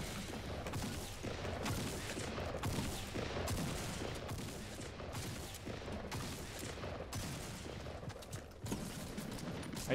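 Gunshots in the Fortnite video game, a dense run of repeated shots in quick succession, steady and fairly loud throughout with no talking.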